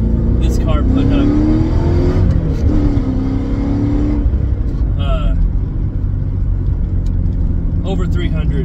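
Modified 1986 Porsche 928 V8 running loud and close, a continuous heavy engine rumble with rising and falling revs, while someone talks over it throughout.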